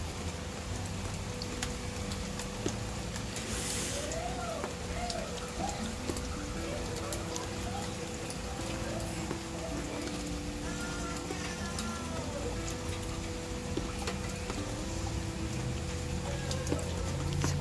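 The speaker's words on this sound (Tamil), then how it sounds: "இன்றைக்கி சரியான மழை இங்கே." Steady rain falls in a patio garden as a constant wash of patter, with faint bird calls and distant traffic in the background and no voices.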